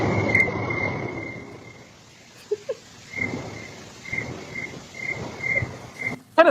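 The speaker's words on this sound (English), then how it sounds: "Well, yeah, those are crickets." Crickets chirp in repeated short bursts of high, steady trilling, heard from a video being played in a courtroom hearing, over a low background hum with a few brief knocks.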